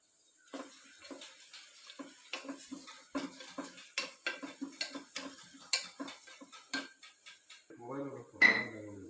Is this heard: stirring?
yes